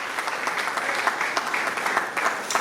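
A congregation at a funeral wake claps in a dense, continuous wash of applause, steady and fairly full throughout with no voices rising above it.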